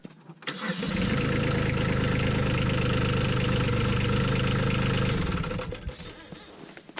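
A Kubota B2601 compact tractor's small engine cranks and catches, then idles steadily with a low, chugging rumble before cutting off near the end.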